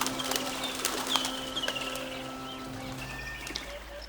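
A flock of colourful cartoon birds, rendered as several sparse chirps and coos over a steady low hum, with brief wing-flutter-like bursts, moderately loud.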